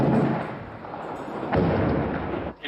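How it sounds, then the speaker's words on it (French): Gunfire and explosions during the outbreak of war in Kigali, Rwanda: a dense, continuous roar of rumbling blasts and shots, loud and sustained, with a sharper burst near the end and no voices. "on entend des tirs, des explosions"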